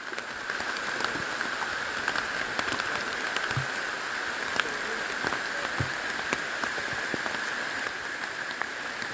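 Steady rain patters on a surface in a forest, with scattered distinct drops ticking throughout; continuous and fairly close, no voices.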